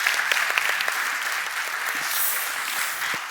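A room full of people clapping steadily for Seamus at an opening event, dense even applause sustained throughout without fading.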